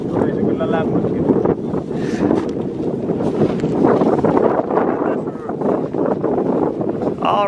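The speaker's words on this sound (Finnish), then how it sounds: "mutta tuulee 15 metriä. Pohjoisesta vielä." A strong north wind of about 15 metres per second blows over a large lake while ice fishing for Arctic char, roaring steadily into the microphone with a voice speaking faintly beneath it.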